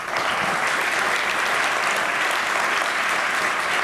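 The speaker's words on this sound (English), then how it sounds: "please give a big round of applause to the program committee" A sustained round of applause from a large conference keynote audience, many hands clapping steadily and loudly at close range without a break.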